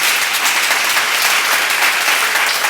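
An audience at a church Bible seminar bursts into sustained applause, a dense, loud wash of many hands clapping together evenly without pause, close and filling the room.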